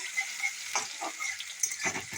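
Sliced ginger frying in a pan for chili fish and fried rice, with soft crackling sizzle and a few stirring scrapes, moderately quiet with no voices.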